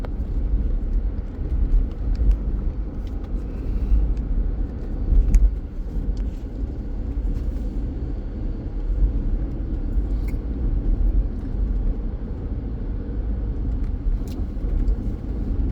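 A car driving along a scenic road toward Cape Le Grand, with a steady low engine and road rumble throughout, close and continuous, with no talk.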